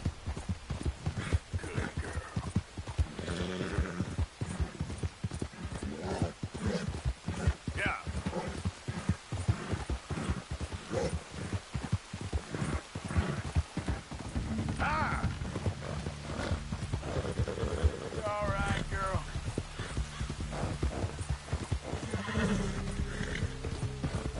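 Rhythmic clip-clop of horse hooves with occasional neighs in the video game Red Dead Redemption 2, continuous throughout, with someone talking in German over it and faint mechanical sounds.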